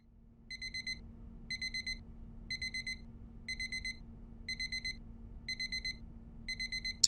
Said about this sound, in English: Turn off the alarm